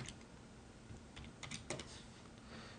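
Keystrokes on a computer keyboard entering a command, a quick cluster of soft clicks near the middle over a low steady hum, fairly faint and close.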